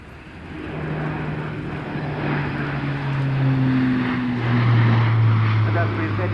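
An A400M military transport aircraft flies at an air show with a steady, droning turboprop hum that gradually swells louder, its engine tones shifting as it passes.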